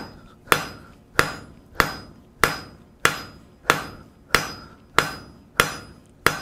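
Hammer striking 3/8-inch mild steel on an anvil to draw a taper while forging, ten sharp ringing blows at a steady, even pace, loud and close with each ring decaying before the next hit.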